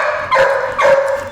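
A dog begs for donuts with two loud, close barks, each whiny and drawn out, the pair about half a second apart.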